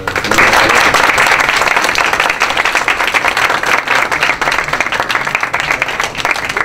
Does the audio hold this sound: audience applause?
yes